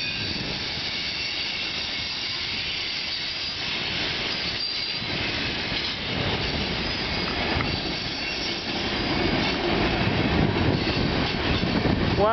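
CN freight train hauling a long string of tank cars rolls past at Bayview Junction in Hamilton, Ontario, a steady loud rumble of wheels with rhythmic clacking and faint squeals throughout, no voices.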